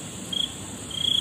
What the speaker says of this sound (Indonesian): Jangkrik pun ampun, menjawab.